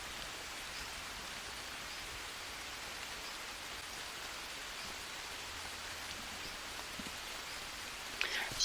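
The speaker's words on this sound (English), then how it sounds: "Oh, of course it's raining." Steady rain falls in the Green Hell survival game, a continuous even hiss of drops on surfaces with no breaks, ending in a few brief louder clicks.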